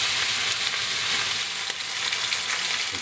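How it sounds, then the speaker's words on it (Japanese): Ground meat sizzles and fries steadily in a hot pan for taco rice, a dense, loud, continuous crackle with occasional stirring, close up and with no talking. "ちょっと焼き目をつけていきましょうね。"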